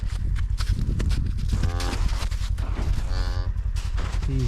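Cattle on a winter calving farm moo repeatedly at night, several drawn-out bellows from nearby amid a steady background of shuffling and animal noise, with no talking.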